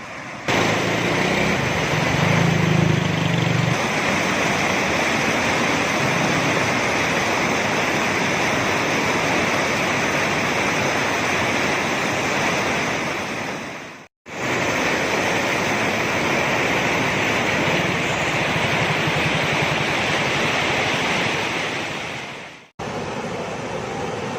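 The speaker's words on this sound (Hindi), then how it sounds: "जैसे ही पानी आगे गिरता है मछली उछलती है और सीधी बांधे हुए कपड़े में आके गिरती है।" Water pours steadily and loudly from a channel into a fish-catching cloth in Gujranwala, a continuous broadband rush that briefly drops out twice.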